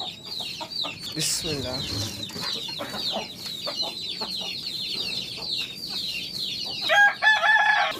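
Roosters and hens in a backyard coop cluck and crow repeatedly, close and fairly loud, with a rising crow near the end, while someone speaks briefly over them.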